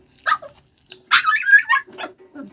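A dog gives a few short, close yips and whimpering barks in quick bursts, with brief pauses between them.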